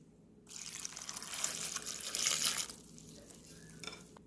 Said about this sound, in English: Now add a cup of water.